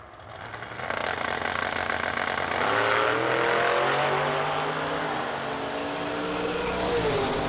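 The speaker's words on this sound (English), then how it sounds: "Nathan Mendenhall and Dan Pylon in the Camaro next" At a drag racing event, a Camaro and an S10 launch with loud engines roaring and revving up to full power, a sustained close rumble that holds and climbs as the cars accelerate away.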